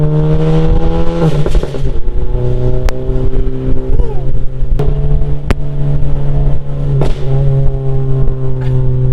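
A tuned VW Golf GTI MK7 with an EQT Stage 2 tune drones loudly on the road, its engine note shifting as it revs, with several sharp exhaust pops cracking through at intervals.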